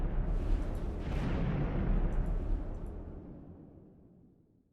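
A missile strikes a ship in a space combat video game, giving a loud sustained blast with a deep rumble that rolls on for several seconds before fading out alone.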